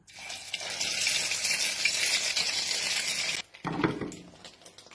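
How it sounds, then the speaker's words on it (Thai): Long eggplant frying in hot oil gives a steady, bright sizzle that holds for several seconds, then breaks off abruptly and returns more softly with some stirring, close by. "วันนี้เราจะมาทอด มะเขือยาวเนาะ"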